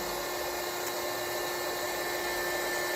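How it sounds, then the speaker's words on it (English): A handheld heat gun drones with a steady, constant whirring at an even level as it pushes out hot air. "This is the heat gun."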